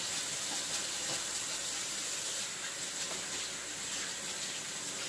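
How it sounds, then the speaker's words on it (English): Steady rush of hot tap water running into a kitchen sink during hand washing, a continuous hissing flow with no speech, close and fairly even throughout. "I'm going to wash my hands"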